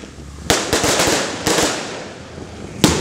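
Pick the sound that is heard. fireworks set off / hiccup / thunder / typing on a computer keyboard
fireworks set off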